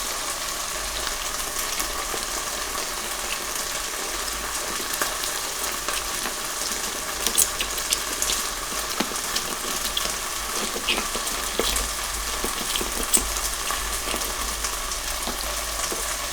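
Shkodra stew being stirred in a pot, heard as a steady, close bubbling and sizzling with faint scraping and small clinks, continuous and without talk throughout.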